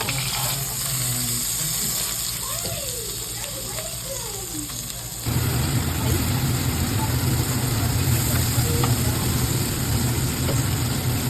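A steak sizzles in a pan with butter, first as a softer fry under faint background tones, then a sudden louder, steady crackling sizzle close by.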